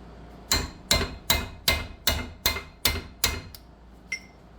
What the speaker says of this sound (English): Just using a hammer and a chisel.